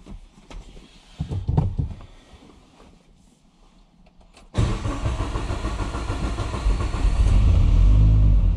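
Mitsubishi Evo 9 engine on a dyno, fitted with a Garrett G42-1200 turbo, cranks in uneven bursts and then catches with a sudden loud start, settling into a steady, rumbling idle that grows slightly louder.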